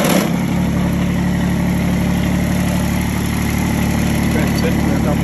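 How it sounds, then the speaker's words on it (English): Kubota BX1850 diesel garden tractor engine running at a steady idle, a loud, constant low chugging drone that fills the whole clip without pause. "starting the tractor"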